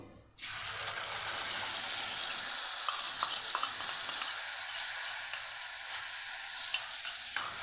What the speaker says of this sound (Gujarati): તો પાંચ ચમચી જેટલી હિંગ ઉમેરી અને આપણે જે મસાલાની પેસ્ટ તૈયાર કરેલી એ અહીં આપણે ઉમેરી દઈશું